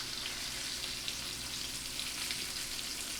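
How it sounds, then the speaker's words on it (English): Garlic and vegetables sweat in a hot pan with a steady, dense sizzle that holds evenly loud throughout, with no voices. "You got the garlic and your vegetables. You got that sweating."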